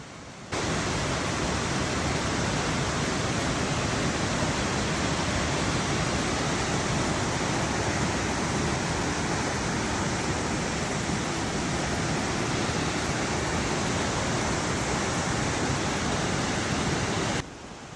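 A river cascade in the Smoky Mountains on the road to Cades Cove rushes in a steady, dense, close wash of water that holds unbroken from start to finish.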